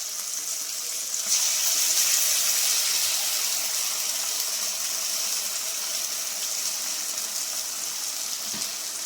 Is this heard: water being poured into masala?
yes